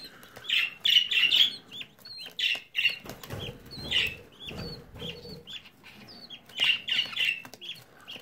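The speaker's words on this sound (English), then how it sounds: "Your budgie might squirk, tweet a bit" Baby budgie squawking and chirping in repeated shrill bursts while being fitted with a leg ring, close and fairly loud, with rustling handling noises between calls.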